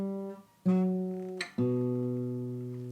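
Acoustic guitar picking out a recurring riff in three sustained, ringing phrases, played close and alone.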